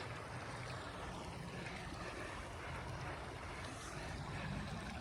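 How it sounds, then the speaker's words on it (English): A desert creek flows inside Vasquez Rocks park in Agua Dulce after a blizzard, giving a steady, close rushing wash of water mixed with wind noise, unbroken for the full stretch with no voices. "I've never seen this creek flowing inside the park in Agua Dulce and Vasquez Rocks"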